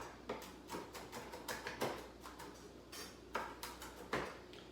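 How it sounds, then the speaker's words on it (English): A knife chopping garlic with salt taps repeatedly on a cutting board in quick, irregular chops, close and crisp, with no talking. "I'm just going to continue chopping"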